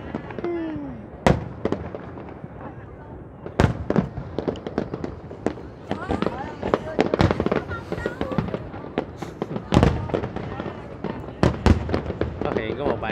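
Dense Lunar New Year fireworks for Tet 2020 crackle and boom continuously, with sharp loud bursts standing out and voices chattering underneath throughout.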